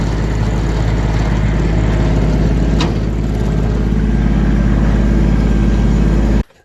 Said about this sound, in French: Aujourd'hui c'était sur la présentation de ce super tracteur compact ST Kubota.